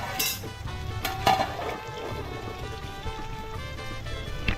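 A lid goes onto a pot of giant grouper fish curry in a Mumbai kitchen, with a few close metallic clanks and clinks over a soft, steady simmering background.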